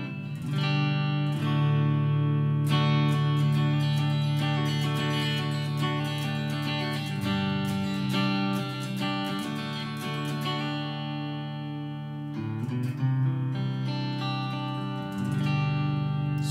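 A strummed, sustained acoustic guitar through BIAS FX 2 reverb, lush reverb tail, chords ringing and blending steadily, a few brighter attacks cutting through the wash.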